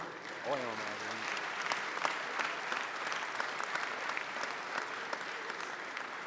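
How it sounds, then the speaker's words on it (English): Continuous crowd applause at a birthday and book launch event in Nigeria, steady and somewhat distant, with a short voice heard near the beginning. "And let the applause continue."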